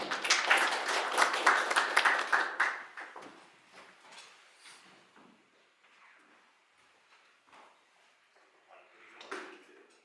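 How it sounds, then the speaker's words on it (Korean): Audience applause for the final presenter at a security lecture, a dense burst of clapping for a couple of seconds that quickly thins to scattered claps and faint room noise. "뜨거운 박수 한번 드릴까요? 박수 부탁드리겠습니다."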